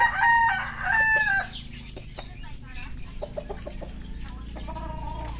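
A rooster crows loudly and close by, one long cock-a-doodle-doo, followed by scattered clucking and other fowl calls over a steady low hum.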